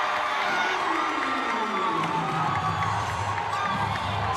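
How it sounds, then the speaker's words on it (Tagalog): A packed indoor crowd cheers and whoops loudly at a professional basketball game, a continuous roar of voices swelling steadily with no distinct talk above it. "The crowd inside the Bataan People's Center is alive"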